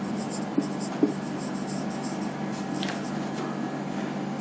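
Writing on a board in a chemistry lesson produces faint, light scratching strokes with a couple of small taps, quiet against a soft room background.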